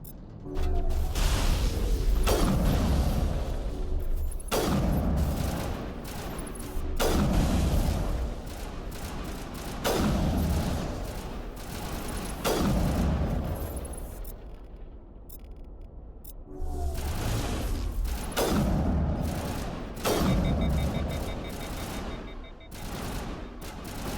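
Turrets in Mass Effect Legendary Edition open fire in repeated loud bursts, each a clattering volley with mechanical whirring between, separated by short lulls and one near-silent gap.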